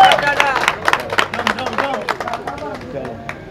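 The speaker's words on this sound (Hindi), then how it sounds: "बहुत बहुत तालियां जी माशाल्लाह" A crowd claps steadily at a pigeon show prize distribution, with dense hand claps carrying on over several seconds amid background chatter and a voice speaking.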